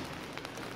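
Rain falling steadily on an open city square in Masan, Changwon, heard as a dense, even hiss with a few faint drop patters and no voices.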